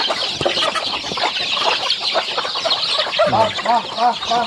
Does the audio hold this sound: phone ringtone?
no